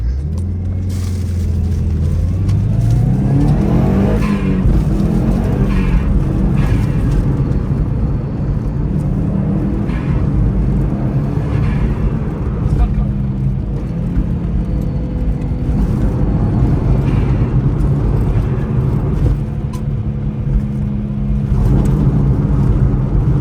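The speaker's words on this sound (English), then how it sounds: "this thing makes so much noise driving on the road" Loud, steady road and engine rumble fills the cabin of a Subaru WRX STI being driven, a dense low drone with shifting engine tones throughout and no voices.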